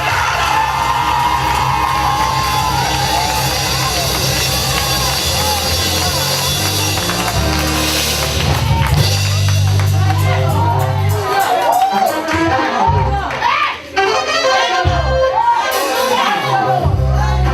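A church congregation cheering, shouting and whooping loudly and continuously, with a dense crowd roar and scattered individual yells building over time.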